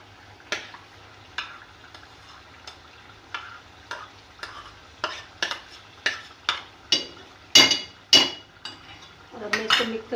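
Onion, yogurt and spice paste being fried for beef korma, with a spoon scraping and clinking against the pot in repeated strokes over a low sizzle, growing busier toward the end.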